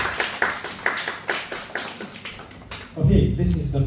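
Audience members in a hall clap after a talk, with distinct, fairly rhythmic claps repeating about twice a second for a few seconds before a voice starts speaking.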